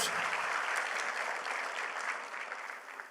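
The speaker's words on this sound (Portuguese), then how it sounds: "Vamos aplaudir os nossos amados irmãos." Church congregation applauding during a sermon, a dense continuous wash of clapping from a large crowd that gradually fades over about three seconds.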